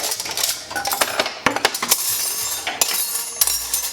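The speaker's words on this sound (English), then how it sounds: "Okay, so I'm putting them to the side. Same thing with the spoons. Then I got knives." Forks, spoons and knives clatter and clink as they are sorted during dishwashing, with rapid, irregular metallic jingles and sharp taps close by and no talking.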